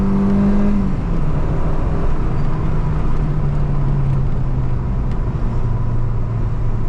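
A Peugeot 309 GTI 16 engine pulls hard under acceleration with a loud, steady, close drone whose pitch climbs through the gears, and no one talks over it.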